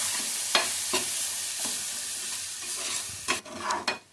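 Eggplant bharta with egg sizzling and frying in a pan while being stirred, a soft continuous hiss broken by sharp scraping strokes of the spatula, with a few stirs clustered near the end.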